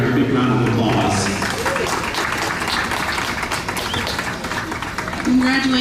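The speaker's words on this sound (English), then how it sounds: "So let's give these showmen out here a big round of applause." Crowd clapping at a youth dairy goat show, a sustained round of applause that runs under someone talking into a microphone, with a brief louder burst near the end.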